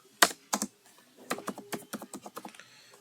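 Someone types on a computer keyboard while filling in an Excel salary sheet: two sharp key clicks come first, then a quicker run of about eight taps, heard close and clear.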